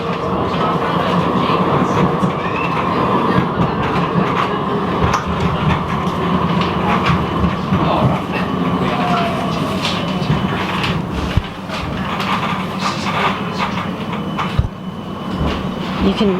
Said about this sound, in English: This is the last tram along Park Street and Domain Road.